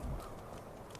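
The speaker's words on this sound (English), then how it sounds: "Horses, all day long." Horse hooves clop at a steady pace in the video game Skyrim, a faint, muffled rhythm set against low background rumble.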